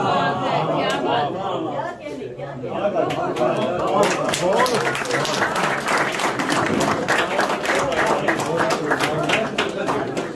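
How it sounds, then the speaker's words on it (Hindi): Dense, steady applause from a mushaira audience at the Jinnah Centre follows a poetry recital by Sahil Qadri, with crowd chatter mixed through it and the clapping swelling after the first few seconds. "भरपूर तालियां साहिल कादरी साहब के लिए प्लीज।"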